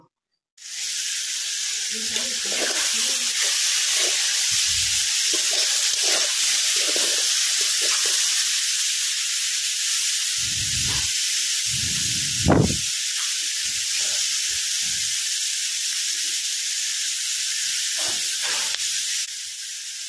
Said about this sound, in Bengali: এই পাশে মরিচ, পেঁয়াজ, টমেটো এগুলো ভাজি নেই একটু বেশি করে